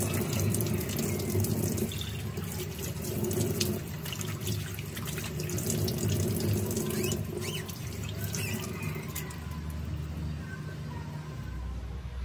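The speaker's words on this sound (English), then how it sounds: "After washing our face" Tap water runs steadily at a bathroom sink during face washing, a continuous close splashing rush with faint drips and no talk, holding even throughout before easing slightly near the end.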